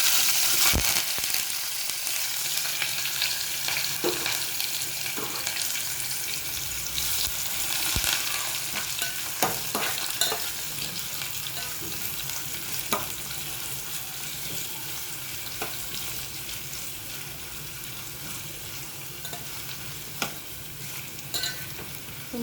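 Steady, continuous sizzling of tomato, onion and curry leaves frying in hot oil with cumin, with occasional clinks and stirring noises, close and fairly loud throughout.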